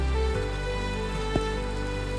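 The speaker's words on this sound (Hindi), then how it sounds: "जब से आए हैं 24 घंटे बारिश हो रही है।" Steady rain falls at 8,000 feet in the Himalayas, an even wash of sound under a constant humming drone, broken by one sharp tap midway; nobody speaks.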